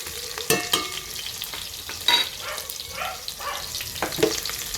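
Ginger being stirred and sautéed in a hot pan for chicken tinola, with a steady frying sizzle under repeated scraping strokes of the spoon, close and fairly loud, with no talking.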